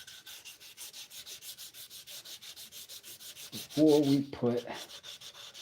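Steady rhythmic sanding of a wooden handle during final shaping, close and continuous strokes, briefly joined by a short spoken phrase near the end.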